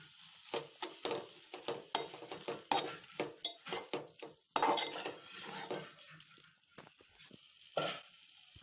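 Salt is stirred into a village-style bitter gourd fry in a pan: irregular metal scraping and clinking of a spoon against the pan, with a soft sizzle underneath, in bursts of varying loudness.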